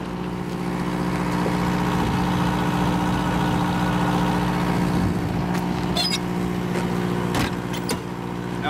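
A Detroit diesel engine idles steadily in the rear of a 1996 MCI 96A3 pusher bus converted into a custom coach, giving a loud, continuous low rumble with a few faint clicks and rattles on top and no talk.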